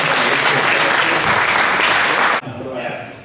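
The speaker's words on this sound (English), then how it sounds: "how about a round of applause?" A live audience breaks into a round of loud, dense applause that runs steadily for over two seconds, then cuts off abruptly and leaves a quieter room with murmuring.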